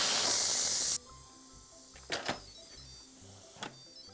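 Pressure cooker steam valve releasing: a loud, broad, steady hiss of escaping steam for about a second, then it cuts off, leaving faint clicks and knocks nearby.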